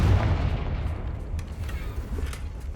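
A Confringo fire spell in Hogwarts Legacy bursts with a deep, rumbling boom that rolls on as a sustained low roar, loud and near, with faint crackles on top.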